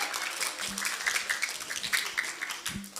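An audience gives a round of applause at a morning community gathering, with dense, steady clapping from many hands filling the room for about three seconds, plus a few low thumps and faint voices underneath.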